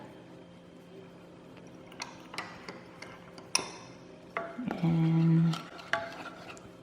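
Cucumber kimchi seasoning being stirred together, heard as light scraping and clinking of a utensil against a bowl, with scattered ticks and a short louder scrape near the end, under a brief spoken word.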